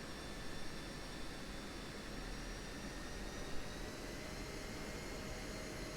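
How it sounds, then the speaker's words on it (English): An AWACS aircraft taxis toward the runway in the DCS flight simulator. Its jet engine drone is steady and broadband, with a continuous whine that holds throughout and no voices. "The AWACS is taxiing to the runway."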